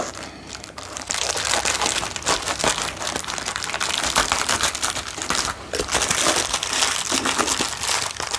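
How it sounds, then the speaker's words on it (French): Paper crinkling and crumpling continuously up close as a small figurine gift is wrapped, loud dense rustling with brief pauses, no voices. "Je vais l'emballer un tout petit, ça suffira."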